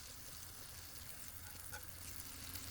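Butter sizzling in an old iron frying pan on a rocket stove, a steady, fairly faint crackling hiss that holds through the whole moment with no talk.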